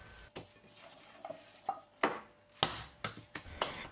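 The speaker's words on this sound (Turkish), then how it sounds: "köftemizi güzelce yoğuruyoruz arkadaşlar" Kofte meat mixture is worked by hand in a series of irregular slaps and squelches that grow stronger and come closer together toward the end, close up, with no voices.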